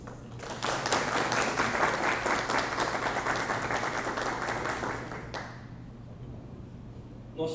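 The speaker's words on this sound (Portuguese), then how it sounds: "Recebam com a salva de palmas e a nossa" An audience at a public forum on health policy gives a round of applause, dense clapping swelling quickly, holding strong, then thinning and fading out over a low steady hum.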